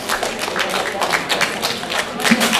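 Schoolchildren in a classroom clap their hands together, a dense, fairly loud patter of many overlapping claps that continues steadily for a couple of seconds.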